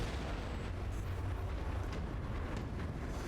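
A bomb goes off in the Deus Ex Mankind Divided video game, a dense low rumbling blast that keeps rolling through the whole stretch, steady and heavy, with no voices.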